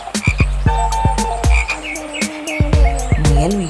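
A cartoon frog by a pond croaking repeatedly in a loud, close, rhythmic series of deep pulsing croaks, with a few higher chirping calls layered in.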